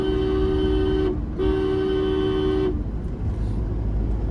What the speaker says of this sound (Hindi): अब मैंने एक बार फिर पासिंग डिपर दिया और लॉन्ग हॉर्न पुश किया